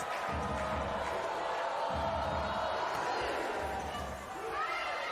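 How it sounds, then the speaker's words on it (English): Volleyball arena crowd at a Turkey vs Germany EuroVolley 2023 match cheering after an ace serve, a broad roar with rising shouts and whoops, under a commentator's voice. "And the crowd can celebrate."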